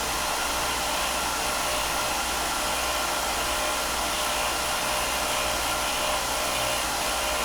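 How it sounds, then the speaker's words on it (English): A wood lathe spins while a thread is cut into a turned wooden box, giving a loud, continuous, even whirring roar that holds steady throughout with no talk. "We'll cut our thread into the groove, and then we can come out the way."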